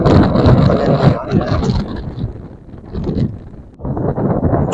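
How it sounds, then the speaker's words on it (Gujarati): Strong wind at Dosvada dam buffets the microphone in loud, roaring gusts that rise and fall, with a short lull before the blast picks up again. "ખૂબ જ પવન છે"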